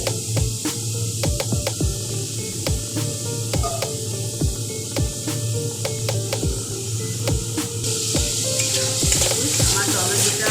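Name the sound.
tomatoes frying and sizzling in a pan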